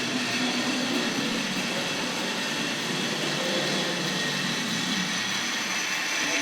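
A steady, continuous mechanical whirr and rumble of a Tri-ang Hornby model train running along track, even in level throughout, with no voices.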